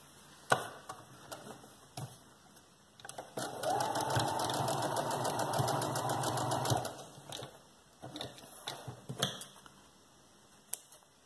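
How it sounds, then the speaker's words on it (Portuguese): Domestic sewing machine running a continuous stitched seam along a marked line on a high-waisted diaper cover, a steady buzzing burst of about three seconds, close and fairly loud, between quieter handling noises and brief taps. "Eu vou fazer a costura em cima dessa marcação a 1 centímetro da margem."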